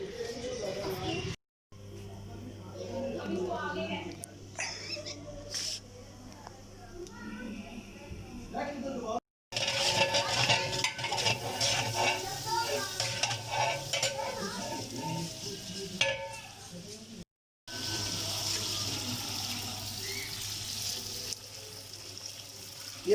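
Onions frying and being stirred in a large village cooking pot for a big batch of qeema pulao, steady sizzling with scraping and metal clatter, broken by brief silences and with a voice talking over it.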